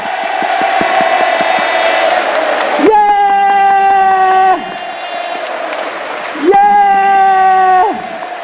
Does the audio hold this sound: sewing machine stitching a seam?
no